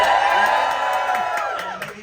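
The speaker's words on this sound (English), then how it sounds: "If you get it right, the audience is going to give you a cheer like this." Audience on a Carnival Panorama cruise ship game show cheers and whoops loudly, a dense crowd roar with shouts and a few claps that holds steady for two seconds and eases slightly at the end.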